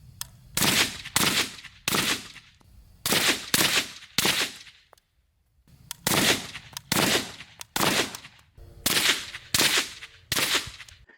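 Repeated suppressed rifle shots through a CGS Helios DT direct-thread 3D-printed titanium suppressor, fired in quick strings of three or four sharp cracks with short pauses and one longer gap, loud and close outdoors.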